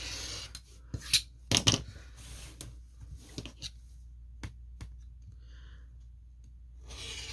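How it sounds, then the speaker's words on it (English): A rotary cutter trims excess fabric off a quilt, giving faint scraping rasps and a few sharp clicks scattered over a quiet background. "I'm just going to take my rotary cutter and we're just going to trim away the excess off this quilt."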